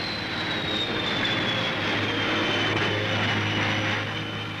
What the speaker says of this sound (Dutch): Tijdens dit bezoek werd onder andere een demonstratie van de Fokker S-14 gadegeslagen.